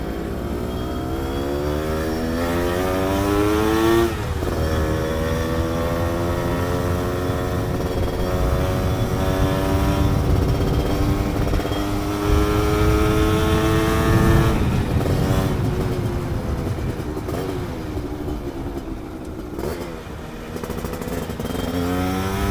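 Yamaha F1ZR motorcycle with a newly bored, standard oversize 0 piston, revving and pulling hard on a test ride, a loud close engine note climbing and falling in pitch through gear changes, steady throughout with no talk.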